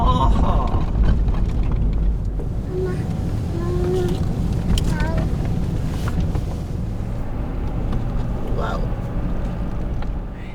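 Wind gusts across the microphone on a cold desert evening at camp, a steady broad rumble that lasts the whole stretch, with a voice and some small clatter faintly in the mix.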